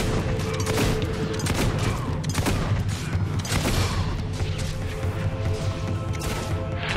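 Gunfire in the video game Fable 2 comes as rapid, dense volleys of shots and crashes, loud and continuous throughout the stretch of combat.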